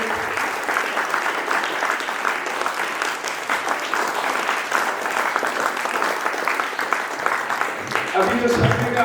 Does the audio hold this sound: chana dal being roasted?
no